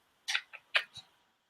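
A cat gives a few short meows close by, three or four quick chirpy calls in a row followed by silence.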